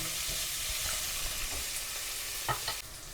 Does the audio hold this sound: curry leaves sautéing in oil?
yes